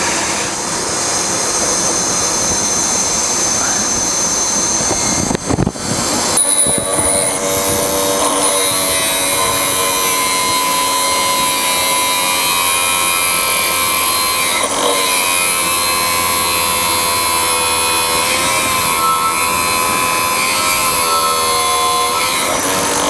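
Tool grinder sharpening an endmill, a steady loud motor whine with a shifting high-pitched grinding tone, a brief sharp disturbance early on, continuous throughout.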